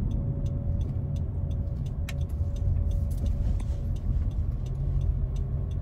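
Inside a 2021 Honda Civic Turbo Hatchback RS with a CVT, a steady low engine and road drone holds under the cabin, smooth and even, with faint ticking on top and no gear shifts.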